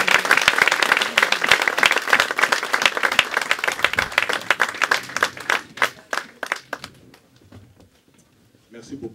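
Church congregation clapping and cheering in a lively burst that gradually thins into scattered claps and fades out, with voices mixed in.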